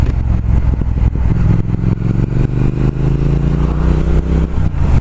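A 2019 Triumph Speed Twin motorcycle on the move, its engine droning loud and steady with a gradually rising pitch as it accelerates, heavy wind and road rumble underneath.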